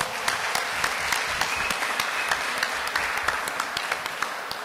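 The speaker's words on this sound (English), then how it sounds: "So give them a big round of applause." Audience applause for debaters at the close of a debate event, a dense, steady burst of many hands clapping throughout, fairly loud and without talk.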